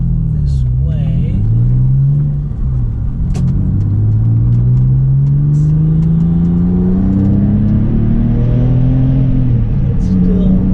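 A Porsche 911 accelerating on an open road, its engine note rising steadily and loudly from inside the car, with a continuous rumble throughout.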